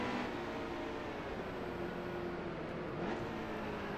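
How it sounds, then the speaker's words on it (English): Racing truck in NASCAR Heat 2 droning at speed, its engine a steady loud whine over road noise, with a brief pitch dip and rise around three seconds as it downshifts. "As we downshift."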